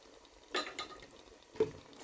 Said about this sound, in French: Je fais bien le mélange